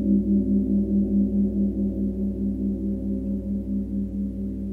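A softer note on a tam-tam played with a large, heavy, soft mallet hums quietly and alone, its low wash pulsing gently with slow beating as it sustains and slowly decays.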